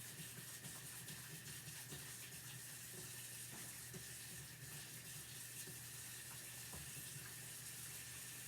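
Water runs from a tap as something is rinsed under it for a chalk crafting project, a quiet, steady splashing flow with faint clicks and knocks throughout.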